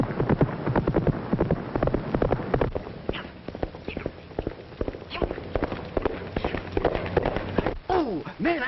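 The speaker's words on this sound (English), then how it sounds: "Oh, every time a horse runs, Danny, he don't go for speed." A running horse's hooves clatter in rapid sharp clip-clops, loud and close, under excited talk and shouts from onlookers throughout.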